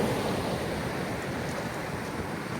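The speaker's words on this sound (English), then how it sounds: "you can have a little listen to the sea" Sea waves wash steadily onto a gravel and sand shore at Dunwich, Suffolk, a continuous broad rushing surge with faint wind noise, close and alone without voices.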